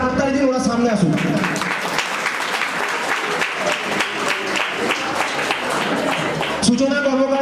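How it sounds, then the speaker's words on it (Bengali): An audience at a school Teachers' Day celebration claps loudly and continuously for about six seconds, bracketed by a person speaking before and after. "আপনারা জোরে হাততালি দিন"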